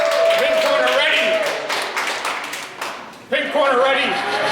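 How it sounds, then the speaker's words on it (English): A crowd at a small combat robot event claps and cheers, with bursts of applause and shouts swelling, dipping, then rising again in a reverberant hall. "I want to hear a roaring crowd. Cheers galore."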